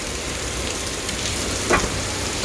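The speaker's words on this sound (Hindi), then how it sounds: "इतनी तेज़ बारिश हो रही थी" Heavy rain pours down in a constant, dense hiss with no pauses, briefly swelling a little louder near the end.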